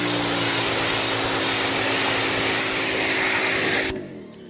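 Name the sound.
pressure washer spraying dried mud off a Land Cruiser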